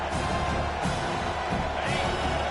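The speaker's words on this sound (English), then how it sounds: "Decibels rising as the crowd gets behind this defense on third down" A stadium crowd roars behind the defense on third down at an American football game, a dense, continuous wall of cheering and whoops with a slight swell as the noise builds.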